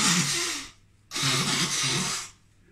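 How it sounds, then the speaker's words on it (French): Two long, wet, blustery nose blows close to the mic, each lasting under a second or so, separated by a brief pause. "était en train de se moucher"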